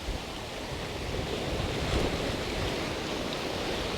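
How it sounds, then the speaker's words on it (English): Ocean waves roll steadily onto the rocky shore of Talisker Bay, a broad continuous roar of surf with wind noise buffeting the microphone, swelling slightly midway as a bigger roller breaks. "There's a few more big rollers coming in"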